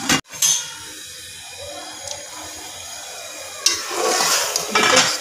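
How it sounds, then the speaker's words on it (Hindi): A spoon stirs cooking rice in a pot at close range, with light scraping and clinking against the metal over a soft bubbling sizzle. "चावलों में हमेशा चम्मच ऐसे चलाएं या फिर ऐसे"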